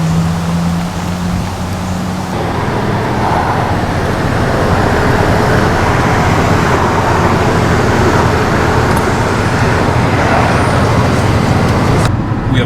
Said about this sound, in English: We are now driving the Atlantic City Expressway down to the Jersey Shore